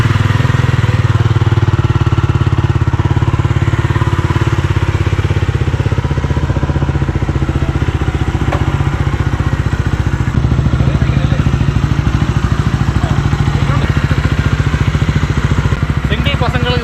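A Jawa Bobber 350cc motorcycle idles close by, a steady loud chugging that runs throughout with light mechanical clatter.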